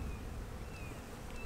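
Honey bees buzzing around an open hive, a faint, steady, continuous drone of many wings with no other sounds.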